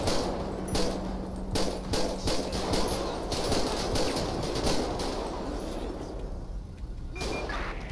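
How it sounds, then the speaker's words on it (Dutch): Rapid bursts of gunfire in the video game GTA 5 with the LSPDFR police mod, sharp repeated shots in quick volleys over a steady background hum, easing off toward the end. "Wie schiet er? Hij schiet."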